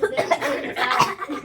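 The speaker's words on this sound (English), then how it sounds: "get all the coughing out" Several harsh coughs burst out in quick succession, close and loud, with some breathy laughter mixed in.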